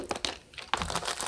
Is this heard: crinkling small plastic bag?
yes